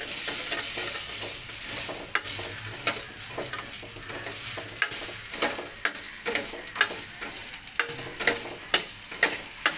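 Rice is stirred and roasted in ghee in a pan for tandulachi kheer, giving a continuous gentle sizzle under a steady rhythm of spoon scrapes and taps that grow more regular and pronounced toward the end.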